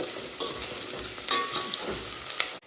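Potatoes and onions sautéing in hot oil for khari bhaat, a continuous close sizzle and crackle with a few stirring scrapes, no voices, ending abruptly.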